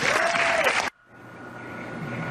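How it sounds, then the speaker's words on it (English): An audience applauds in a televised news segment: loud, dense clapping over a voice that cuts off abruptly, followed by a quieter studio hum. "she got applause"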